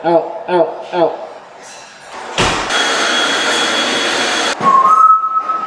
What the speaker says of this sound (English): Mopping and vacuuming at the same time.